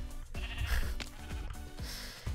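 Minecraft sheep bleating in the game, several short wavering bleats in quick succession over a steady game background, fairly close and clear.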